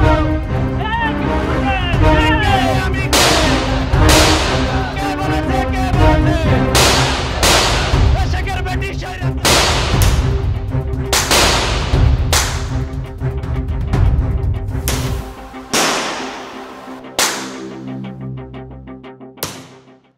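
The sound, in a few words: gunfire in the distance during street unrest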